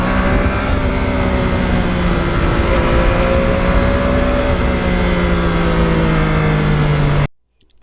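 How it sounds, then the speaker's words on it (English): Yamaha MT-09 motorcycle ridden on the road, giving a loud continuous engine drone with a slowly falling tone under steady wind rush, ending in a sudden cutoff to near silence. "the fact the bike is not loud and obnoxious when you go in these populated areas"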